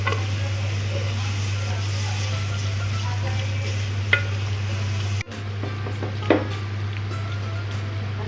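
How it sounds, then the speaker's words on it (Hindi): Ginger-garlic paste and onions fry in a pot for mutton kunna, giving a steady, close sizzle with a constant low hum and a few sharp clicks of stirring against the pot. "अब मैं इसमें डाल दूँगी अदरक लहसुन का पेस्ट। इसको भी हम 1 से 2 मिनट ही फ्राई करेंगे।"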